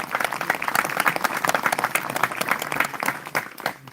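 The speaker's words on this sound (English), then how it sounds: "I think you should applaud her." Audience applause at a C-47 memorial ceremony, a dense crowd clapping steadily and fairly close, sustained throughout and tapering slightly at the end.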